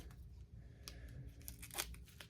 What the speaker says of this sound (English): I'm using my Timmy scissors.